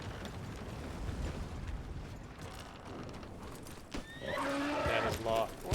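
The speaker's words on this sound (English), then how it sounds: "Let me get the horse." A horse in a western video game whinnies loudly after a stretch of low rumbling ambience, the neigh rising sharply near the end with faint hoof sounds.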